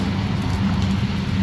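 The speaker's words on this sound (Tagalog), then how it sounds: "Walang tigil ang ulan." Steady rain falling, a dense, even hiss of drops on surfaces, moderately quiet and continuous with no voices.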